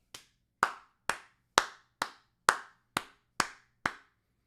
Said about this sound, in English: Hold on, brother. I'm clapping.